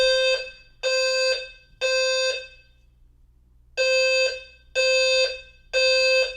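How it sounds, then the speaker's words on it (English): An apartment fire alarm blares in loud, harsh electronic beeps: three long tones, a short pause, then three more in a steady pattern, close and piercing. "It's not hard to not set off a fire alarm."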